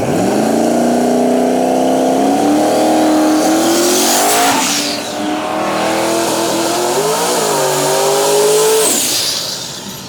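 Twin-turbo LS-powered drag race cars roar down the track, engines rising in pitch through gear changes with a loud, sustained howl and tire squeal, the pass fading slightly near the end.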